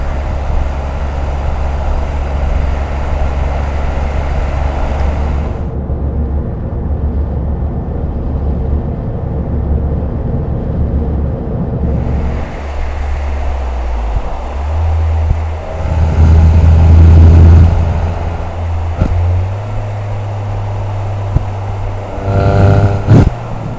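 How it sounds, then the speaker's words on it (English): Toyota GR Yaris with a titanium exhaust cruising on a highway: a steady, loud low engine and exhaust drone with road and wind noise, the pitch rising briefly toward the end. "This is now just normal highway driving."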